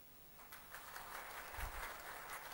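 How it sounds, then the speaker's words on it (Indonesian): An audience at a recognition event in a hotel gives faint, distant applause that rises from a thin patter into a denser, steady clapping and continues without talk. "Tepuk tangan."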